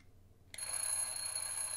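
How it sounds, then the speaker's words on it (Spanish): An alarm clock in the video game Darkwood starts ringing abruptly after a brief quiet moment, a continuous high metallic jangle that holds steady and loud to the end. "Hostia, despertador."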